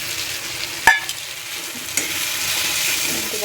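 Onion and spice masala with salt, chilli powder and garam masala being sautéed and stirred in a pan for a dry drumstick (shevga) vegetable dish, a steady low sizzle with a sharp utensil clink near the start and another soft knock later.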